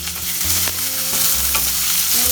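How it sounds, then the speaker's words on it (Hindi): Roughly chopped medium onion and a halved green chilli frying in a pan over medium-low flame, a steady close sizzle with occasional stirring scrapes throughout, no voices. "3-4 मिनट फ्राई करना है"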